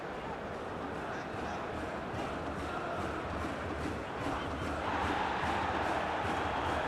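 Crowd noise in a football video game, Football Life 2025, during a Leipzig vs St. Pauli match: a steady, dense stadium roar that swells slightly louder near the end, with no clear cheer peaks.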